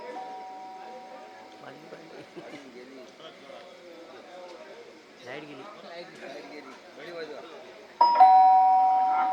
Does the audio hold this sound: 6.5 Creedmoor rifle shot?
no